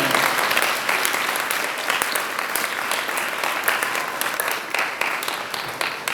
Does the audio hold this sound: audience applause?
yes